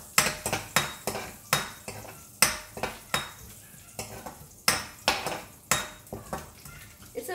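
A metal spoon strikes and scrapes a pan in quick repeated clanks, roughly two per second, over a soft sizzle of hing and garlic frying in heated oil.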